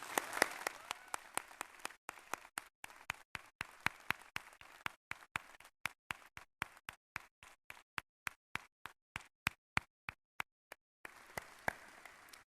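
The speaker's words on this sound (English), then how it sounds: "would you join me please in giving a round of grateful applause to your faculty?" At a Grade 12 graduation ceremony, the audience applauds the faculty. Dense clapping at first thins to scattered, evenly spaced single claps, then a fuller burst returns at the end.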